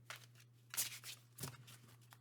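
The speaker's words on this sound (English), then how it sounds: "This is a lovely deck, but it's very big and hard to shuffle." A large, bulky deck of oracle cards is shuffled by hand, giving soft riffling and slapping bursts close by in a quiet room.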